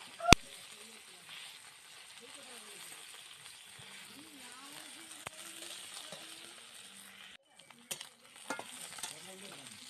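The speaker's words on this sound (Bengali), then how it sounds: "তো দেখুন, মাছগুলো কিন্তু দু সাইড খুব ভালোভাবে ভাজা হয়ে গেছে।" Koi fish frying in oil in a pan, a soft continuous sizzle with scattered scraping and clattering as the pieces are turned, close and fairly quiet, with a sharp knock near the start.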